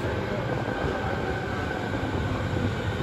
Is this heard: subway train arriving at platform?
yes